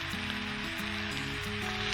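Szechuan peppercorns crackle and hiss in hot oil for a snail and pork curry, a dense, steady sizzle sounding close and loud with no talking.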